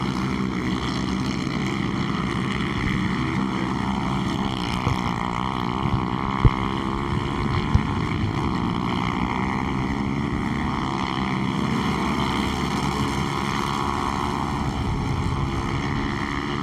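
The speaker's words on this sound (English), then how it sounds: "the short course karts have a Briggs & Stratton motor" Short course racing karts with Briggs & Stratton motors race on an off-road stadium track, making a continuous loud droning engine buzz with layered harmonic whines and a couple of sharp clicks, with no voices heard.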